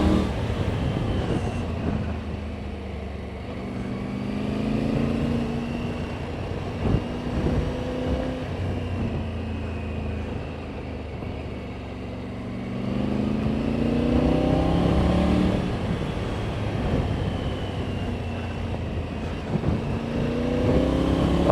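Triumph Tiger 900 Rally Pro Desert Edition motorcycle engine revving up and down in steady swells, close and loud throughout, with no talking over it.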